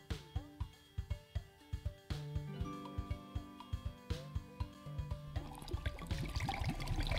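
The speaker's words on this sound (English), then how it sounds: "Okay, let's pour it" A potion pours in Spellcorked on Playdate as a trickling liquid over an upbeat game tune, with rhythmic plucked notes and a steady splashing stream building toward the end.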